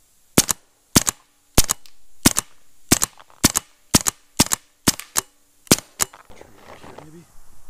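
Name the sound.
Autococker paintball marker shooting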